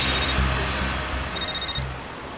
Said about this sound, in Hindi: विनीत का फोन।